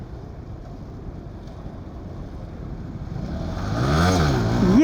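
A KTM Duke 200 BS6 motorcycle lifts into a wheelie, its engine rising from a low rumble into a sharp, climbing rev near the end, heard at moderate distance with wind buffeting the microphone.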